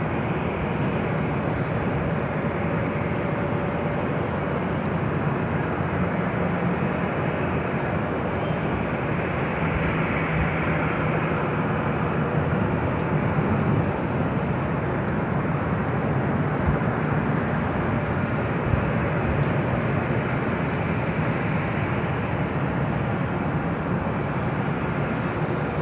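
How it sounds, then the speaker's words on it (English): Atlas Air Boeing 747-400 takes off on the south side at LAX, its four engines producing a sustained loud rumbling jet roar that persists evenly for the whole stretch without voices. "Do have a Queen taking off on the south side. Atlas Air Flight 8470 heading to Chicago O'Hare, 747 to 400."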